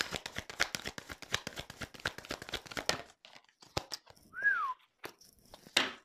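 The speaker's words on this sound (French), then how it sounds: "Je siffle et tout, quoi." Quick papery riffling clatters for a few seconds, then after a pause someone gives one short whistle that slides downward in pitch.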